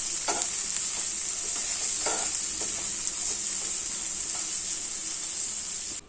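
Peas, onion and tomato are stirred in a frying pan for a veg pulao. A steady, even sizzle runs throughout, with faint scraping strokes of the spoon near the start, close and continuous.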